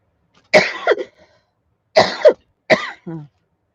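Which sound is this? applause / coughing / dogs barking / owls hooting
coughing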